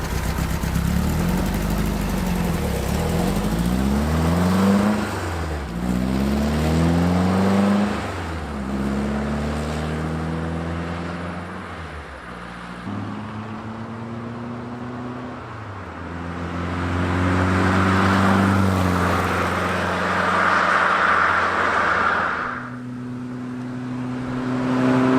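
An immaculate, largely original, slightly styled VW Beetle engine runs steadily, with its pitch rising and falling through several revs before settling back to a smooth idle; it is close and fairly loud, and nobody talks.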